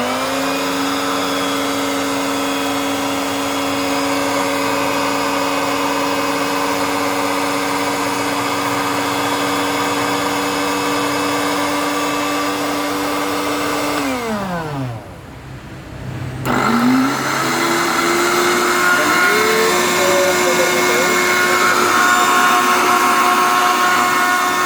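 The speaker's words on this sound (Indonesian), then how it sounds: "Jadi di blender Philips." A Philips kitchen blender runs at steady high speed with a loud motor whine, winds down and briefly stops, then starts again and keeps running.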